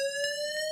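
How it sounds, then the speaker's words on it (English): A building fire alarm sounding a steady, piercing electronic tone with rich harmonics and slight pulsing, loud and close, with no one speaking over it. "That's the alarm."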